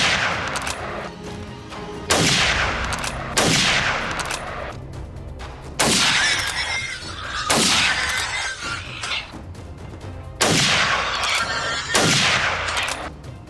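Loud gunshots ring out on a riverbank during a wild hog hunt in a wildlife management area, seven sharp cracks spaced a second or two apart, each trailing off in a long echoing decay.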